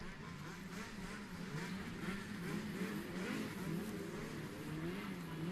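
Snowmobiles run the inspection lap at a snocross race in Akureyri, a steady, distant engine drone with a wavering pitch that rises and falls continuously under a low background rumble.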